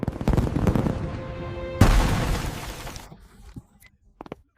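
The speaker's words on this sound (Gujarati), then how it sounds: "આ કોણ ફટાકડા ફોડે છે?" Firecrackers burst in a rapid crackling string, followed by a louder, sharper volley that fades out. A few faint pops follow, with no one speaking.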